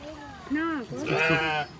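A goat bleats twice in quick succession on a farm, close and loud, the second call longer and wavering.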